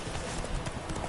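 A brief stretch of steady clip-clopping hooves as Roach, the horse from the video game Witcher 3, trots along, close and even in rhythm.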